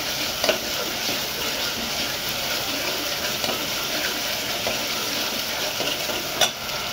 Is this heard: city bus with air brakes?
no